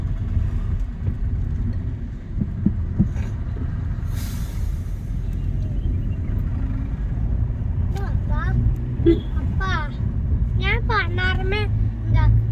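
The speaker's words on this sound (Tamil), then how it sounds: "பாருங்கள், காலையிலே இவ்வளோ டிராஃபிக்காக இருக்குது." Morning town traffic rumbles through the streets of Munnar, a steady low drone of engines joined by a burst of several car horn honks toward the end.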